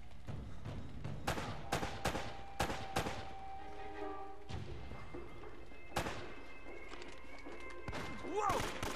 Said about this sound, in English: Your shotgun hit me from pretty far away.